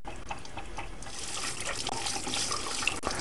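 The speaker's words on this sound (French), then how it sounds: "laissez couler l'eau pendant 3-4 minutes" Water runs steadily from the tap of a CARTIS fountain during rinsing, a continuous close hiss and splash that grows fuller after about a second as the flow increases, with no voices.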